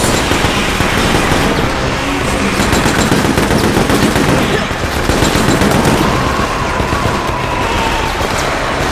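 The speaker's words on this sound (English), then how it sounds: "Stop shooting!" Relentless automatic gunfire in the video game Resident Evil: Operation Raccoon City fills the whole stretch, a loud, dense rattle of rapid shots layered with explosive bursts.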